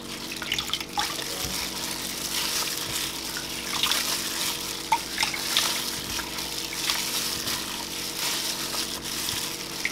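Hands knead coarse barley malt in a bowl of water for sikhye, producing continuous close wet sloshing and squelching.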